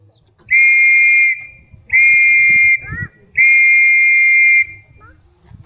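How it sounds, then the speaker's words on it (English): Three long, loud whistle blows signal gas clear at a 1940s-themed wartime re-enactment day in Skegness, each steady blast lasting about a second, separated by short pauses with faint background noise. "The way to give clear, to note that gas is cleared from the area, is 3 long whistle blows"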